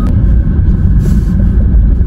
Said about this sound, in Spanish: Vamos a esperar que pase este tráfico.